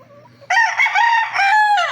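A gamefowl rooster crows once, loud and close, a strained harmonic call in two surging phrases after a soft lead-in, with no voices.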